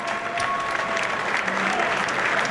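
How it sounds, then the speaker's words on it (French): A crowd applauding at a King of Fighters XIII tournament final, dense clapping sustained evenly from start to finish. "on l'applaudit bien fort"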